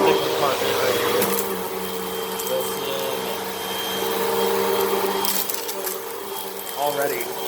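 A Hoover WindTunnel vacuum cleaner drones steadily as it sucks sand out of a messy rug, a continuous whirring motor with a rattling, gritty edge that swells slightly midway, with a person talking over it.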